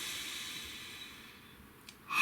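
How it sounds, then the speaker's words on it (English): A person's slow breath, a soft steady airy hiss close to the microphone, ending in a brief sharper intake at the end. "Please breathe."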